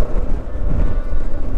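Strong wind on a high mountain road between Leh and Kargil near Lamayuru buffets the microphone with a loud, continuous low rumble and gusty roar.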